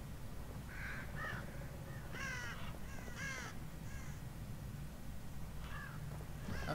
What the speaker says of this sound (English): What's with the crows everywhere?